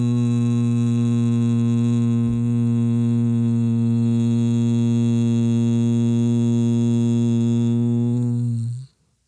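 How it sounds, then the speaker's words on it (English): A person exhales one long, steady, close humming tone during a bee-breathing exercise, holding an even buzzing pitch for about nine seconds before it cuts off abruptly into silence. "you're going to take a deep breath in and exhale a hum"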